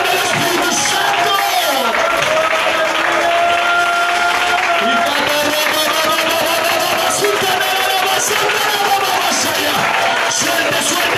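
A Pentecostal church congregation breaks into sustained applause mixed with crowd cheering and whoops, a dense continuous roar of clapping and voices with someone talking over it.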